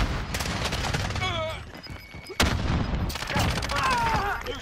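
Video game gunfire rattles in rapid bursts and volleys, with a brief lull in the middle before the shooting resumes. Speech is heard under the shots.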